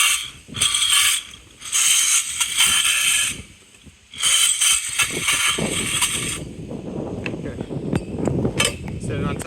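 Line pulled out of a Jet Dock PWC dock ratchet reel, heard as close bursts of rapid ratcheting clicks and whirring that stop and start, followed by lighter clattering handling noises.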